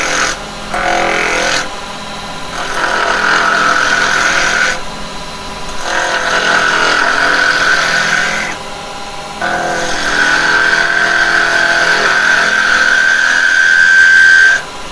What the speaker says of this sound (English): now we're going to turn the head. And again, we're just using the carbide.